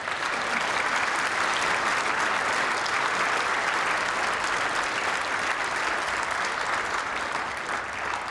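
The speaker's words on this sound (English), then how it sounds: "another round of applause for a great final" Sustained, dense applause from an indoor crowd after a Scottish Masters ladies bowls final, loud and continuous with no break.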